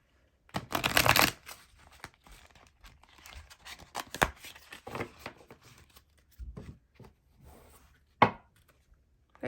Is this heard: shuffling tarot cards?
yes